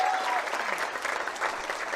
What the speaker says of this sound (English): let's stay with a round of applause